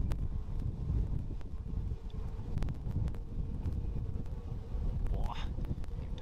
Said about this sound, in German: Die Rotorblätter so vorbeizischen.